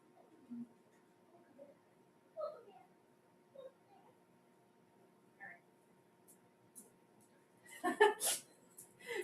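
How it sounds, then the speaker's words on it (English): A dog whimpering to be let in, faint short whines and snuffles scattered through quiet, ending with a louder burst of sound, with a person speaking at times. "I think my dog wants to come in"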